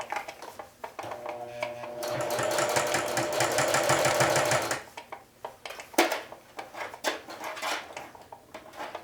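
A sewing machine stitches a flag onto a thick jean jacket, its fast mechanical whirring running steadily for a few seconds close by, then stopping, followed by clicks, fabric handling and small knocks.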